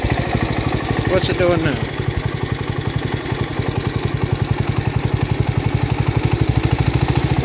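A John Deere 112H lawn tractor's small engine, long left sitting and still smoking after a carburetor adjustment, idles with a rapid, even thumping clatter close by while someone talks over it.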